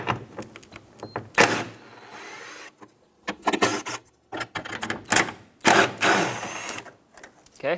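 Ratcheting and metallic rubbing while 10mm bolts are loosened from the grille mounting bracket on a 2009-2014 Ford F-150, coming in several close bursts separated by short pauses.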